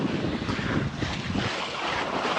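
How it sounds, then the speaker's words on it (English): Steady roar of wind and rushing waves around a sailboat under full sail, close hauled at about 7.5 knots in 4 to 6 foot seas, with wind buffeting the microphone throughout and no voices. "There's about 4 to 6 foot seas out here right now."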